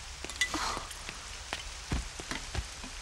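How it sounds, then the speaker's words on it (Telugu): Sudden rain in a Telugu horror short, heard as scattered patters and drops striking a surface, soft and fairly close, with no voices. "అయినా ఇంత సడన్గా వర్షం ఏంట్రా?"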